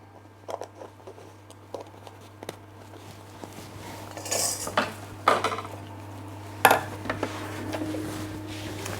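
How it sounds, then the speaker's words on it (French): A saucepan lifted off the stove while making a strawberry charlotte gives a few clattering knocks of metal cookware, the loudest near the end, over a steady low hum. "je retire ma casserole du feu"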